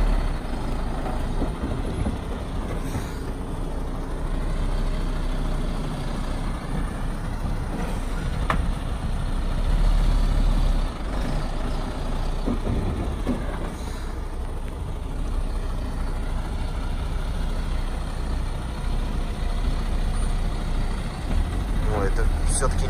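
An articulated lorry manoeuvres into a Magnit store lot, its diesel engine rumbling steadily at idle and low revs with a brief hiss of air brakes, while people talk nearby throughout.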